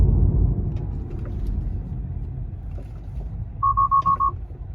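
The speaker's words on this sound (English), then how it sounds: "the car has to beep about it" Car's warning chime at a stop sign: a quick run of five evenly spaced electronic beeps, clear and close inside the cabin over a low road and engine rumble.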